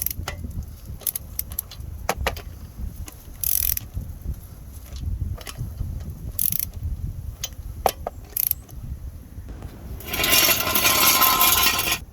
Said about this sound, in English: I'm going to torque this to 85 foot-pounds in a star pattern.